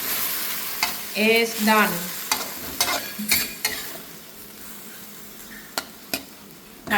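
Holy basil being stir-fried in oil in a pan, a steady sizzle broken by scraping stirs and sharp utensil knocks against the pan, with a brief voice speaking near the end.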